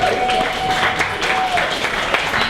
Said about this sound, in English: give her a warm welcome and round of applause